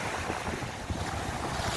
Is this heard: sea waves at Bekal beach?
yes